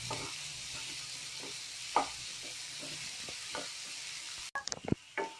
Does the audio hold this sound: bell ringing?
no